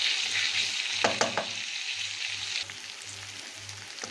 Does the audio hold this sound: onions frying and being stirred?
yes